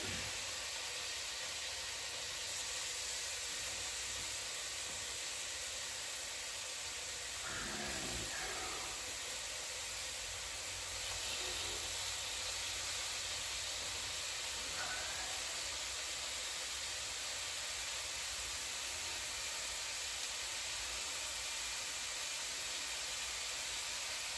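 Meat sears in a skillet for a home-cooked chili, giving a long, even, close hiss that barely changes, with a couple of faint knocks.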